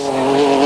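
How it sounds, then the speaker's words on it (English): Mitsubishi Pajero rally car driven on a short Dakar super special stage, its engine holding a loud, sustained high-revving whine at close range with no break across the moment. "This is Hiroshi Mashioka, the Japanese driver in his Pajero"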